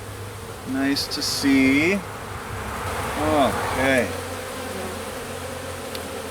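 Bees swarm with a steady buzzing drone at an opened hive during a spring inspection, humming close and continuous while a person speaks briefly over it.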